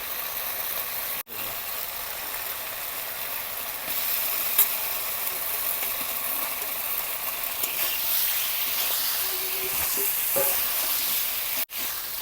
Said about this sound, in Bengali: ভাজা রাখা পটলটাও দিয়ে দিলাম